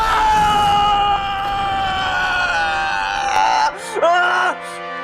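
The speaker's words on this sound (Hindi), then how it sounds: "ये तेरे पोते की चीख थी" A young boy's scream rings out loud and sustained, strained and wailing, fading near the end and then rising briefly again, heard up close in a tense dramatic scene.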